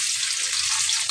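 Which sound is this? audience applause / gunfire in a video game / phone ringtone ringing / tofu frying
tofu frying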